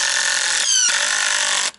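A power drill drives reused screws into boards, giving a steady, close motor whine for nearly two seconds with a brief dip in pitch partway through before it cuts off.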